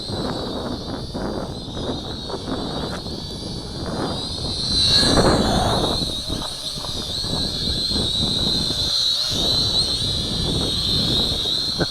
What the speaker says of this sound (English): Very good looking quadcopter.